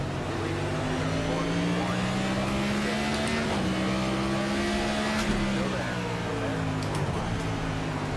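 Race car engine roaring steadily at the green flag in the iRacing sim, with tires spinning and revs climbing and dipping, loud and continuous throughout.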